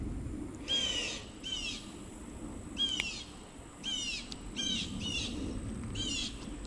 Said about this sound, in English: There's a bird that's really not happy with me over there.